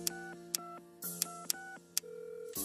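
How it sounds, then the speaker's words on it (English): A telephone keypad dialing, with a short run of distinct DTMF tone beeps in an uneven rhythm, each marked by a click, heard clearly with no voices. "How do you dial on these things?"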